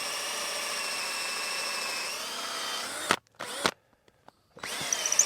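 A cordless drill with a dull metal bit and a nearly dead battery bores into wood for a bushcraft shelter roof, whining steadily for about three seconds, then stopping and restarting in short bursts.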